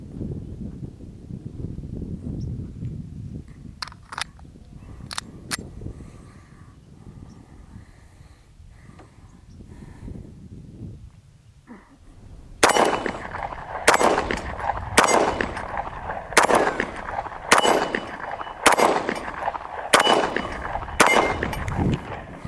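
Beretta M9 9mm pistol handled with a few metallic clicks while loading, then a rapid string of about nine loud, sharp gunshots fired in quick succession outdoors.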